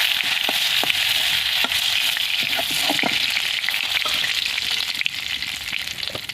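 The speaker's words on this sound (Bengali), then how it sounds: "চিংড়ি মাছ ভাজা হয়ে গেছে, বেশি ভেজে নেবো না" Shrimp fry in hot oil in a pan for a Bengali potol chingri dish, giving a steady, close, hissing sizzle with scattered small pops and crackles throughout, no voices.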